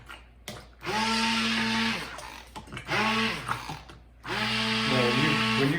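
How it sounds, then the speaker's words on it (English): A stick blender whirs in three loud bursts while blending a tofu pumpkin pie filling, its motor pitch shifting as it churns, with short pauses between. "I'm just going to take the handy dandy stick blender here and make a lot of noise."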